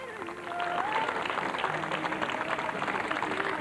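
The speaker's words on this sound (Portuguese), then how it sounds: "com uma salva de palmas." Outdoor crowd applause at the door of the late fado singer's home, a steady mass of clapping that swells after a quieter start and continues evenly throughout, with scattered voices mixed in.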